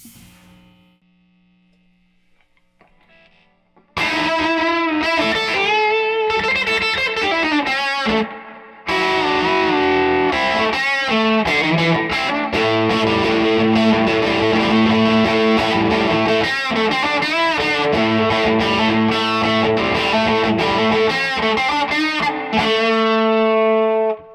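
Loud, heavily distorted electric guitar chords ring out through a Fender '68 Custom Vibro Champ Reverb tube amp cranked to full volume, sustained and saturated, after a brief quiet start.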